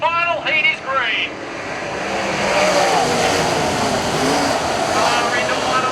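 Sprint cars roar off at the green flag of a heat race at Avalon speedway, a loud, dense, continuous engine drone that builds and holds under an excited commentator's voice.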